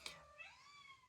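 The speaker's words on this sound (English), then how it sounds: "Sorry about the cat." A single faint house cat meow, a drawn-out rising and falling cry indoors, heard alone with no talking.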